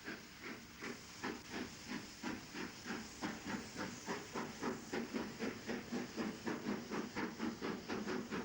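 A Class A3 steam locomotive, No. 60068, chuffs rhythmically hauling a stopping train for Carlisle into a station on Scotland's Waverley Route, its exhaust beats hissing at a steady, slowly quickening pace as it draws nearer and grows louder.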